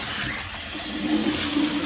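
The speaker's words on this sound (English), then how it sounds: "I'm going to go ahead and put some water in here." Water from a hose rushing into a water softener tank, a steady close hiss and splash with a faint rising gurgle as it fills.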